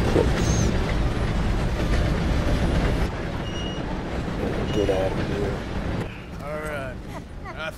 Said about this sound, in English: Train's coming, train's coming.